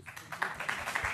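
Light, soft clapping from a tech talk audience in a hall, a brief patter of hands, faint and somewhat distant.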